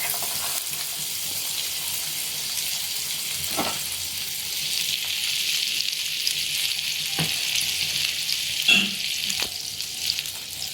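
Butter sizzling on a hot tawa while pav bhaji vegetables cook, a soft steady crackle with a few sharper clicks and scrapes, close and fairly quiet, no talking.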